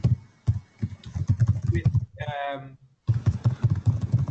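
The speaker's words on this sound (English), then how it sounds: "there's someone tapping quite hard on their keyboard" Someone tapping hard on a computer keyboard during an online meeting, sharp clicks mixed into a man's ongoing speech, with a brief buzzy tone in the middle.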